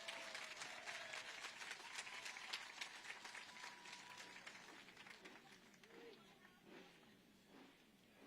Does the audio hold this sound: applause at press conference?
yes